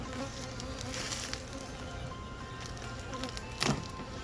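Honeybees buzzing in an opened beehive, a continuous soft hum with one louder buzz passing close near the end.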